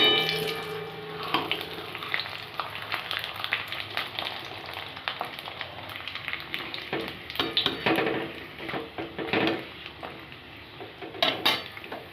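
Papads made from leftover rice starch puff up in a pan of hot oil with a soft, continuous sizzle, joined by clinks and scrapes of a utensil against the pan and occasional sharper taps.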